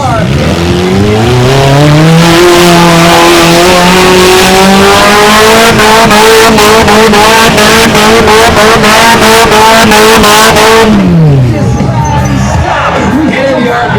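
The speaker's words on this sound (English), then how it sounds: "Getting the RPMs high with some big revolution." Mini monster truck engine screams at high RPM in a show arena, its pitch climbing and holding steady before dropping away, loud and close, with crowd noise and an announcer behind it.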